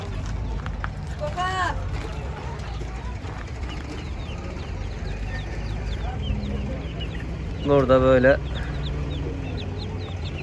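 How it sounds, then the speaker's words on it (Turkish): Chicks clucking and peeping amid a busy outdoor crowd at a poultry market in Ankara, with people talking throughout and a louder burst of chirping near the end. "köylü civcivlerimiz var"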